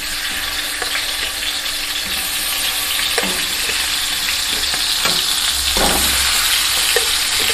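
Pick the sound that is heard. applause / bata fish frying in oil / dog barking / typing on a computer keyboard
bata fish frying in oil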